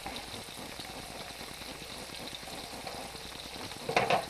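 Beef tips sautéing in a pan, a steady close sizzle running throughout, ending in a brief louder burst of clatter or spitting.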